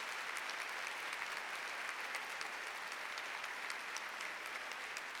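Steady audience applause at a DAR National Society gathering honoring standing chapter regents, dense clapping sustained evenly throughout at moderate distance with no voices.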